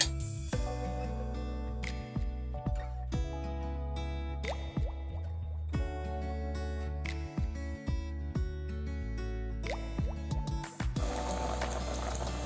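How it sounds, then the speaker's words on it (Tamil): Strained jaggery water is poured back into the same cooking pot, a quiet, continuous trickle and splash of liquid with scattered drips, heard close up. "இப்போ திரும்ப நம்ம அதே பாத்திரத்தில் ஊற்றிக்கலாம்"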